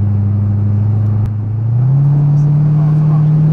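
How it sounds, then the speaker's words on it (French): A Chevrolet Corvette C6 with a 6.0 V8 pulls away under acceleration, a loud, steady engine drone heard from inside the car that rises in pitch partway through. "Oui, là, on accélère, on prend des vitesses."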